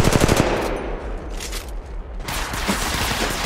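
Rapid automatic gunfire in the mobile shooter Apex Legends Mobile rattles close and loud in a dense opening burst, then thins and swells into another sustained volley.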